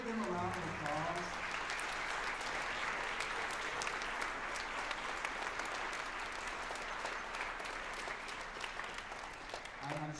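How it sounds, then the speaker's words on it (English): Sustained applause fills a school honor band festival for beginner and second-year players, a dense, steady wash of many hands clapping throughout, with a few voices at the very start. "Can we give them a round of applause?"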